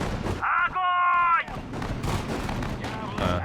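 Artillery fire in the World War II strategy game Sudden Strike 4 during the Battle of Moscow: a few sharp booming shots burst out among other battle effects, with a sustained tonal sound in between.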